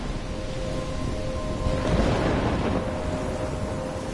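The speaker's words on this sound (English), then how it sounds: "I'm trapped in a storm?" A video-game storm rolls on with a continuous deep rumble of wind and rain, and a heavier thunder swell rises near the middle, loud and enveloping with no talk.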